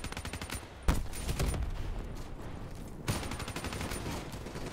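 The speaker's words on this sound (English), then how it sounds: "This gun is just absolutely incredible." Rapid automatic gunfire from a gun in a video game, two long loud bursts of closely spaced shots separated by a brief pause, with echoing crackle throughout.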